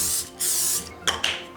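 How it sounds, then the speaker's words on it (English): Cooking spray misted onto a casserole dish in a home kitchen: two long hissing sprays close by, followed by a couple of short sharp bursts. "I'm gonna spray this casserole dish over here."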